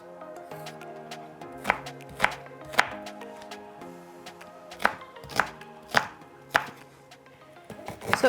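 A knife chops fresh, soft ginger with the skin left on against a cutting board, landing about ten sharp, irregularly spaced strikes. The chops are crisp and close, over quiet background music.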